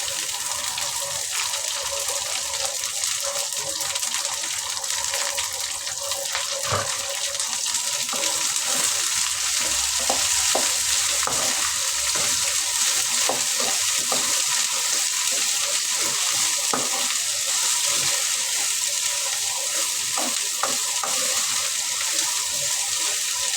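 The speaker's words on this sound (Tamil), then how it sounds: "இப்போ நம்ம வெண்டைக்காய் கொட்டிக்குவோம்" Cut, washed okra sizzles and is stirred in a pan, giving a dense, continuous hiss with watery crackle that holds level throughout, no voices.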